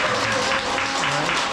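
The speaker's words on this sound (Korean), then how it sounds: "박수로 환영해 주십시오" A dense, even wash of welcoming applause fills a Korean book talk venue, steady and loud for the whole moment with no break.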